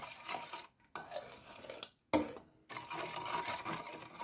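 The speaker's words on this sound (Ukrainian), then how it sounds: "І все гарненько розмішаю" A spoon stirs warm milk with yeast and sugar in a bowl, quick close scraping and clinking strokes broken by two brief pauses.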